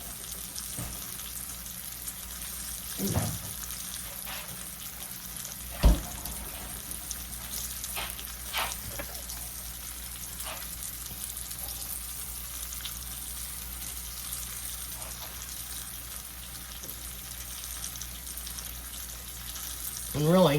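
Mushrooms frying in a pan make a steady, close sizzle throughout, with a few soft stirring knocks and a brief spoken phrase near the start.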